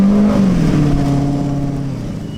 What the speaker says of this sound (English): I'm going for a ride in, I don't even know what it is. I think it's a Razor.